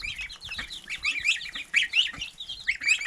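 Young ducks and geese, including a roan-like duckling keeping pace with goslings, chirp and peep in a garden lawn, a busy run of high overlapping tweets close by with no talking.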